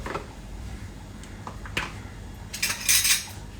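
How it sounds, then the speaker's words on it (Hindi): A metal spoon clinks against a cooking pot while ghee is scooped in for vegetable pulao, giving a few quiet scattered taps and scrapes and a brighter rattle of metal near the end. "तो ये मैं यहाँ पे घी डाल देती हूँ, 2 चम्मच घी"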